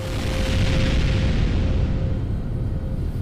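A heavy, sustained explosion rumble from a zombie apocalypse audio drama rolls steadily and loudly with no break for several seconds.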